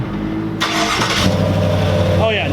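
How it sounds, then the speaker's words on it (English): Truck engine hot-starting on a roughly 95-degree day: a brief crank, then the engine catches and settles into a steady, loud idle close by. "It's hot as hell, so hot start."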